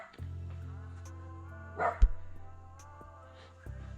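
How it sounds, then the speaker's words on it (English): Dogs bark in the distance, with one sharp bark breaking through a steady low droning hum near the middle, followed by fainter yips. "And the dogs that will not stop barking."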